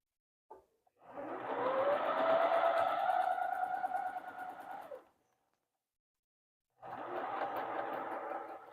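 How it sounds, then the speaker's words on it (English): A sewing machine stitches a pinned quilt seam in two runs, a steady whirring motor burst of about four seconds, a brief pause, then a second shorter run, fairly quiet and close. "I am going to sew this seam together."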